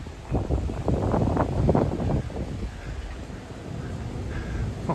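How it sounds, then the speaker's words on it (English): Strong wind buffets the microphone in continuous low roaring gusts on a London street, loudest early on, with no voices. "because it's so windy"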